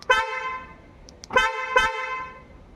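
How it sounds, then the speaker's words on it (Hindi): A Hyundai i10 fitted with a Creta horn honks three times, a short toot then two longer blasts after a pause, loud and close with nothing else around it. "अब इसकी आवाज़ सुनते हैं।"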